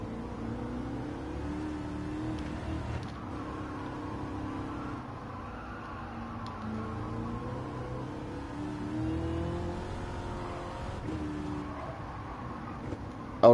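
A safety car's engine in Gran Turismo 7 drones and revs at moderate distance, with the pitch rising and falling steadily. A quieter race-car whir sits in the background.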